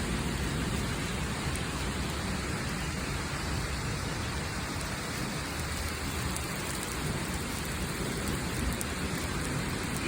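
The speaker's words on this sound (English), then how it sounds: "You hear that thunder just non-stop." Heavy hurricane rain pours in a dense, unbroken hiss, with low continuous thunder rumbling underneath for the whole stretch.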